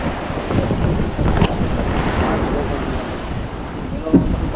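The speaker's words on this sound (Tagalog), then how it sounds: "Ang lakas ng alon." Strong wind and crashing ocean waves during a typhoon, a continuous loud broadband roar with wind buffeting the microphone and surf surging throughout.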